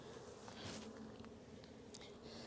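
Honey bees buzz around an opened hive in early spring, a dense, continuous hum with individual bees droning past close by at a low, steady level.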